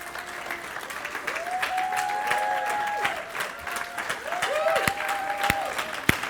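Worshippers at a Sunday church service clap together in continuous applause, with drawn-out vocal cheers and ululating cries rising over the clapping and a few loud close claps standing out.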